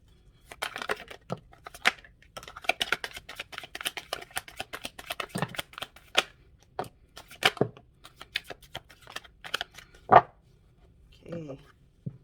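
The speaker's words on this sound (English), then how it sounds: "Okay, I'm going to shuffle one more time." A deck of tarot cards being shuffled by hand in a quiet room, with repeated crisp riffling bursts and soft card slaps coming in irregular runs.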